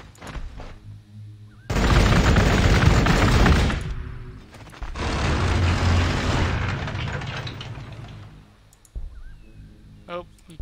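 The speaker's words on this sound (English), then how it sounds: "this frag grenade might not be as efficient" A frag grenade blast in the strategy game Warhammer 40,000: Gladius – Relics of War, two loud sustained bursts of explosive noise with a voice talking before and after.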